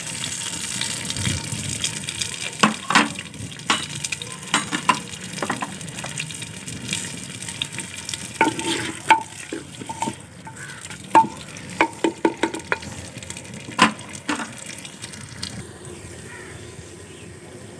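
Onions frying in a pot for village-style chicken pulao, a continuous sizzle broken by frequent scraping and clinking stirs and splashy bursts, close and fairly loud throughout.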